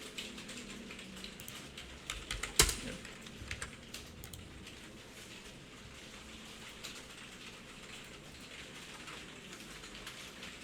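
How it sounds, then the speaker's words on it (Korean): Computer keyboard keys tapped in a classroom during typing practice, a soft, dense patter of clicks running steadily throughout, with one sharper knock near the start and no talk. "타자 연습하고 계시죠?"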